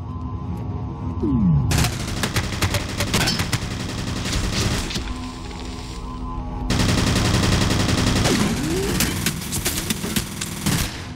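Rapid bursts of automatic gunfire in the first-person shooter F.E.A.R., loud and dense, with two heavy sustained volleys separated by a slightly quieter stretch of scattered shots.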